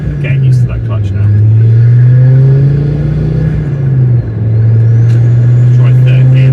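A Ford Focus ST MK2 fitted with a Dreamscience Mod X pulls hard in gear while driving, its engine drone loud and close inside the cabin, the pitch rising steadily, dipping at a gear change and climbing again, with someone talking over it.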